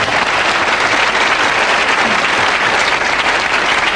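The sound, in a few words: audience applause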